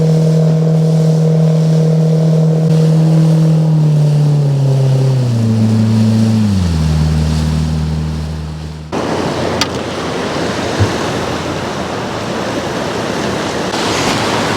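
A fishing boat's outboard motor runs loud and close as the boat heads up to an island. The engine tone steps down through several drops in pitch, then gives way to rushing wind and water noise.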